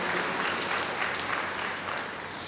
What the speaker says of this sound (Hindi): जो जो उठे हैं, जो नए हैं वो ताली बजाओ